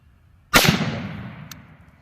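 A single sharp rifle shot from a CMMG Mutant MK-47 or WASR-10 AKM fired at a target, loud and close, with a long echoing decay and a faint distant tick afterward.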